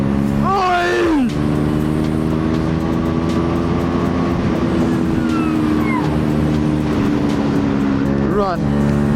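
A motorcycle engine drones steadily and loudly while riding, with rising rev sweeps at the start and end and wind rush throughout, and a rider's voice is heard over it.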